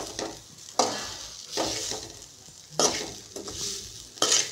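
Grated coconut dry-roasts in a kadhai while a spoon stirs it, making repeated soft scraping and light sizzling strokes in an uneven rhythm, close up and alone.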